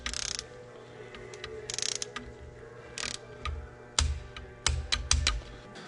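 Socket wrench ratcheting while tightening a piston cooling nozzle bolt on an engine during installation, with short bursts of rapid clicking and several sharper metallic clacks, close and fairly quiet with no talk.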